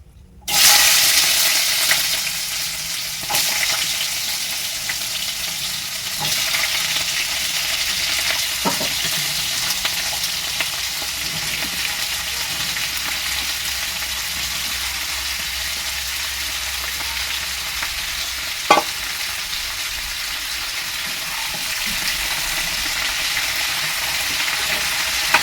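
Potatoes and beans sizzle loudly in a hot pan in a home kitchen, a continuous frying hiss broken by occasional scraping clinks as the vegetables are stirred, with no talking.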